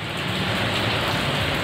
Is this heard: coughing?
no